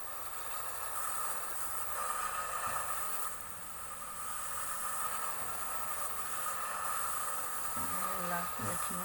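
A passing train makes a steady, fairly faint rumble with an airy hiss on top. It stays continuous throughout, with a few low thumps near the end.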